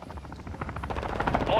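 A chopper gunner helicopter in Call of Duty: Modern Warfare II thumps with a rhythmic rotor pulse that builds louder over the moment, mixed with bursts of rapid gunfire amid busy game action.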